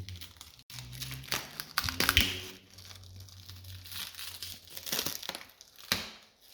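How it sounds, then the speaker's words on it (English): Plastic wrap peeled and crinkled off a toy Ford Bronco TRX4 truck during unboxing, with close, irregular crackling and tearing bursts spread across several seconds. "Does YouTube still love the sound of removing a plastic wrap?"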